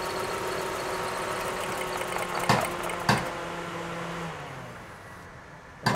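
A car engine runs roughly with ignition coils 1 and 4 pulled, a steady idle drone broken by a couple of sharp knocks before it sags and dies away, no talk.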